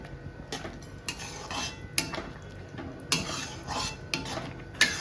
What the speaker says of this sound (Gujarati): થોડી વારે તેમાં ચમચો ફેરવતા રહેવાનો છે